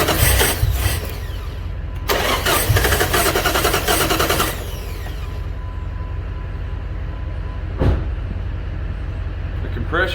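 Jeep 3.7 engine cranking over on the starter during a cylinder compression test, a steady churning whir with rougher bursts near the start and a brief thump later, running continuously close by.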